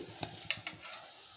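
Coriander seeds frying in a dry pan alongside cumin and fenugreek, giving a faint, steady crackle with a few sharp little pops and stirring scrapes, nearby.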